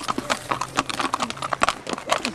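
Horses being fed at a farm produce a quick run of close, loud hoof clops and shuffles, with faint voices in the background.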